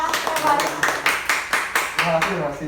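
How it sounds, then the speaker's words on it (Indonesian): Several pairs of hands clap in a quick, even rhythm for a few seconds, close by, with voices mingling underneath. "Boleh dong tepuk tangan untuk juara kita."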